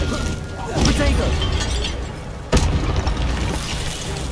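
Protego shield charm from the Hogwarts Legacy game: a sustained magical whoosh and crackle with a sharp burst midway, dense and loud over a busy game soundscape.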